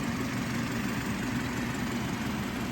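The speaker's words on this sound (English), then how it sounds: "Nice quiet engine." A BMW 430i Gran Coupe M Sport sits idling in a showroom, its engine giving a steady, even, quiet hum with no revving or change across the moment.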